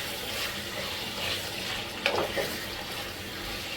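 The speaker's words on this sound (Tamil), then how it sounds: "மட்டன் போட்டு நல்லா வதக்கிக்கோங்க" Mutton pieces sautéing in a pan while being cooked for a Tamil-style mutton ghee roast, giving a steady low sizzle and frying hiss with a brief stir around the middle, with no talking.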